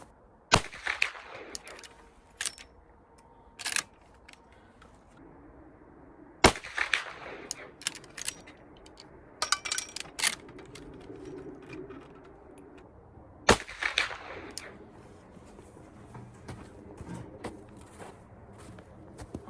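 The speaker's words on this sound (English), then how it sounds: "I'm gonna shoot one more group with this 315 grain load." A Winchester Model 94 Trapper lever-action rifle in .44 Magnum fires 315-grain loads at a range, with three or four sharp, distant-sounding shots spaced several seconds apart amid faint clicks, rustling and handling noise.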